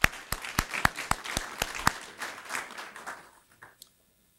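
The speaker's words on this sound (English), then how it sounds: "So we should give them a round of applause for their work." Applause from the audience at a hospital press conference: several sharp, loud individual claps at first, then a scattered ripple of clapping that thins and fades into quiet.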